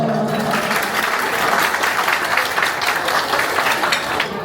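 Wedding guests clap together in steady, dense applause that runs throughout, loud and close with no gaps.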